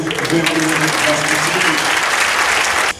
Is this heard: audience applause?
yes